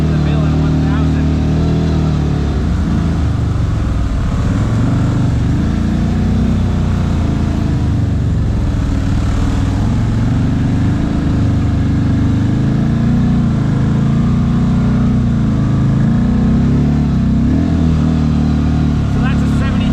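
Segway Villain 1000 and CFMOTO Z-Force 950 side-by-sides driving a trail at Windrock, Tennessee, with a loud, steady engine drone and rumble throughout and talk over it.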